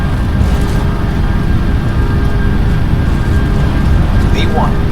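Boeing 747 engines at takeoff power on the runway, a loud steady broadband roar filling the whole stretch with no break, with pilots' voices faint over it.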